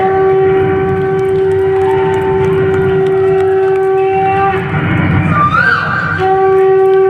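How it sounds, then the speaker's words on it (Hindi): A conch shell blown loudly at a devotional Ram katha telling of Sita's swayamvar, a sustained steady drone that holds for several seconds, then rises and bends near the end, heard over background crowd noise. "जोर से शंख बजाते हैं।"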